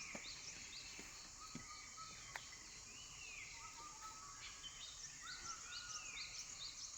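A racket-tailed drongo calls in the open air with scattered whistles and short chirps, faint and somewhat distant, over a constant background of buzzing insects and crickets.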